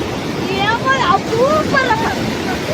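Water rushes over a check dam swollen by heavy rain in a steady, loud roar, with voices talking over it.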